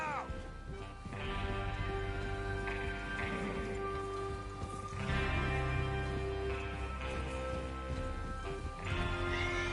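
Horses in Red Dead Redemption 2 neigh and whinny repeatedly over steady clip-clopping hooves, with a patter like rain in the background and voices talking over parts of it.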